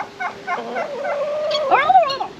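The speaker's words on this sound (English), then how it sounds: "How's this bloody big turkey?" A large farm turkey gobbles repeatedly and close by, a series of bubbling, warbling calls that rise to a louder rattling burst near the end, with no talk over it.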